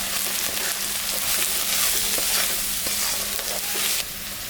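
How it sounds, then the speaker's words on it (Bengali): Fried onions with salt and turmeric stirred in a hot pan, giving a loud, steady sizzle with scraping stir strokes throughout, easing slightly at the end. "পেঁয়াজটা ভাজা ভাজা হয়ে গেছে। এখন আমি স্বাদ মতন লবণ আর পরিমাণ মতন হলুদটা"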